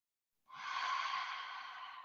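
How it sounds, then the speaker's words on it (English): A single long, soft exhalation during a beginner yoga class, breathy and steady for about a second and a half after a short silence, close and quiet, with no talking. "Take a nice cleansing breath."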